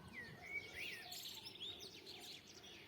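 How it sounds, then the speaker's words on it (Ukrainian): Many birds sing together outdoors on an early summer morning among garden flowers, a dense overlapping chorus of chirps and trills that stays fairly even and moderately distant throughout. "Отож і пташина різноголосся славить сьогоднішній день недільний."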